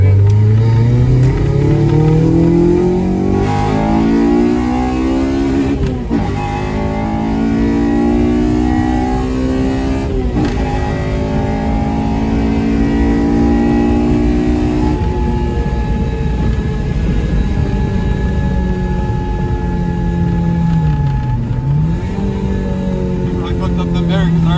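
Honda Civic DX fitted with a K20Z3 engine, converted from automatic to manual, running loud and close, with revs rising and falling in repeated sweeps; a voice talks over the engine throughout.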